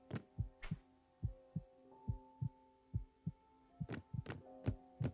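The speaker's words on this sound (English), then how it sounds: "Oh man, that heart beating." Heartbeat effect from the video game Lovecraft's Untold Stories: a steady series of low double thumps over a sustained tonal hum, carrying on alone with no voices.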